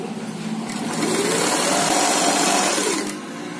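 A sewing machine stitching an umbrella gown runs in one continuous whirring burst, ramping up, holding steady and easing off, close and loud with no talking.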